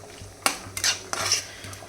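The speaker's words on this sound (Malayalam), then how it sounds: "ഇനി നമുക്കിത് നന്നായിട്ടൊന്ന് ഇളക്കി കൊടുക്കാം" Cashew nuts frying in a pan are stirred with a utensil, producing a few distinct scraping clinks against the metal over a faint background sizzle, with no voices.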